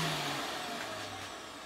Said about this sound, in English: But it's a big vacuum. And I'll show you how loud it is too.